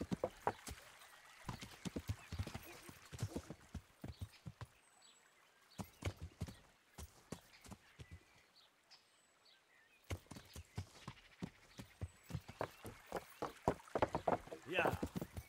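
Horse hooves clopping in a steady walking rhythm inside the medieval video game Kingdom Come, close and moderately loud, with voices talking over them at intervals.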